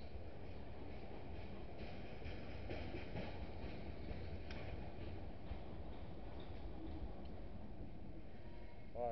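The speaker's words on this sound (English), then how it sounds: "It's a train passing by." Steady heavy rumble and clatter of a long freight train rolling past a cemetery at night nearby, continuous and loud throughout, with no talking.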